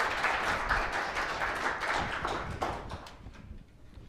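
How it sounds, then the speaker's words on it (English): Audience applause for volunteers at a public talk on the 2017 total solar eclipse: a dense, soft patter of many hands from a distance, steady at first and then thinning out toward the end. "applause for our fine volunteers."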